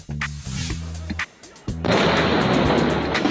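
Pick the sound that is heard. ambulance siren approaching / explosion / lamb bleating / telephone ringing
explosion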